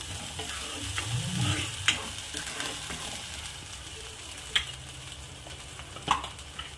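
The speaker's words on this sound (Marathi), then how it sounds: "याला पण छान परतून घ्यायचं आहे वाटणला" A ground masala paste being sautéed for a soybean curry, with a soft, steady sizzle and occasional faint clicks of a spoon stirring, heard close but quietly.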